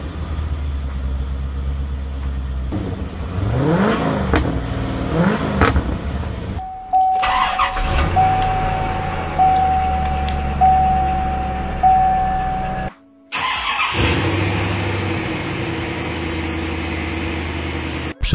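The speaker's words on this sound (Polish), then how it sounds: "Oto Chevrolet Corvette i jego klasyczne V8. Legenda, której rozruch to kwintesencja surowej mocy i wolno ssącego muskularnego brzmienia." A classic Chevrolet Corvette V8 starts up close to the microphone. A starter whine gives way to a loud, steady engine drone, with a brief cut in the middle before the rumble continues.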